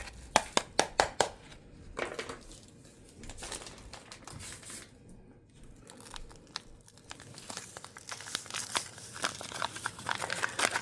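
Two sachets of breast-milk-derived probiotic powder are torn open and tipped into a purple radish yogurt mix, giving sharp close crinkles and tearing bursts in quick irregular clusters, then softer rustling and shaking.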